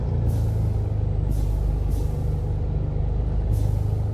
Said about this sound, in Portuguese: Esse som de freio, pessoal, é show de bola também